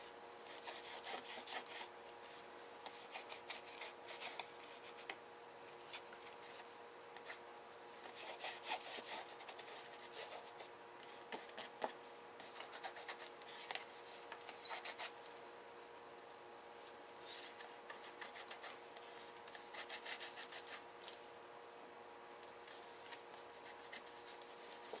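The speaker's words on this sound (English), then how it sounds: "Just need to make sure that you rub it over everything." Colour paste is rubbed over a surface in a steady, close scratchy rasping that continues for the whole stretch with small bursts of friction, and no one talks.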